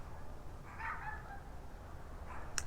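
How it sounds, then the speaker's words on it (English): Dogs bark faintly somewhere away from the room where a kitchen table is being refinished, two short muffled bursts heard over a low background rumble, followed by a brief sharp click. "Like these dogs in the background."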